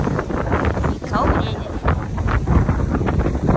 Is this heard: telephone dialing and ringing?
no